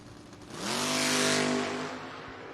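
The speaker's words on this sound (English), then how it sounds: "Both vehicles wheels up start." Drag race vehicles, including a 1959 Ford F100, launching at a footbrake drag race: a loud engine roar that swells quickly as they pull away and then fades, with no voices.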